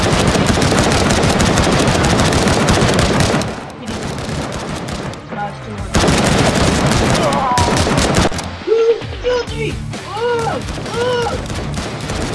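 Rapid automatic gunfire from the video game Striker Zone rattles almost continuously and loud, easing briefly midway before resuming, with a few game sound effects near the end.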